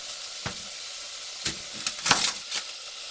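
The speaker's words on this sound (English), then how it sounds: "And we're just going to brown that." Lamb browning in a hot pan, a constant soft sizzle with several sharper crackles and scrape-like bursts from moving the meat, close and moderate in volume.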